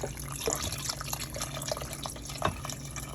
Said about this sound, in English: we're just going to add more broth